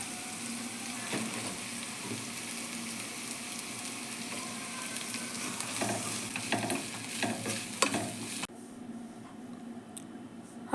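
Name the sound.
flattened rice (aval) stirred and frying in a pan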